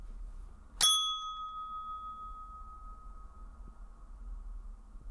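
A single bright notification bell ding strikes once and rings out with a long, clean fading tone over near silence.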